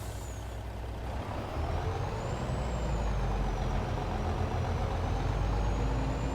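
Truck dumping a load of rock for road repair on a storm-damaged county road, with a steady heavy diesel rumble, a hiss like an air brake near the start, and continuous loud low-end noise throughout, no talk.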